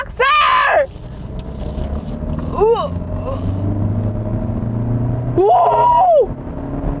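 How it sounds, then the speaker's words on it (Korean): Volkswagen T-Roc compact SUV in sport mode accelerating hard from low to high speed, a steady low engine drone building underneath, with loud excited exclamations from the driver at the start and end. "스포츠 모드로 바꾸고 저속에서 고속으로 브락셀!"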